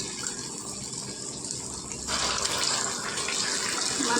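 Minapa bajji, urad dal fritters, frying in hot oil, giving a steady close sizzling hiss that grows noticeably louder partway through as more batter goes in.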